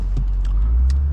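A 2008 Lexus IS-F on the Pacific Coast Highway rumbles steadily from inside the cabin, a heavy low engine and road drone filling the short stretch, with a few faint light clicks over it and no talk.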